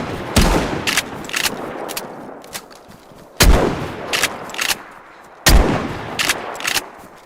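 Gunfire in the survival game DayZ: three loud, sharp shots spaced about three seconds apart, each trailed by quicker, quieter cracks and echoing reports, with no talking.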